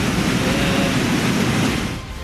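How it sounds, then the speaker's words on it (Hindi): Floodwater of the swollen Yamuna river rushing down from the mountains near Janki Chatti, Yamunotri, after heavy rain: a loud, steady roar of turbulent water, constant throughout and easing slightly at the end. "पहाड़ों से हाहाकार मचा हुआ पानी तेजी से नीचे आ रहा"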